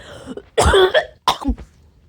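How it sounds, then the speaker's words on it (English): Two harsh coughs, the first a longer rough burst and the second shorter, close up with a quiet pause between them. "I'm sorry about the cough there."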